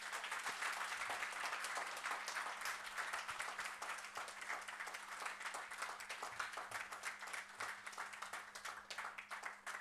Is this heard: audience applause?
yes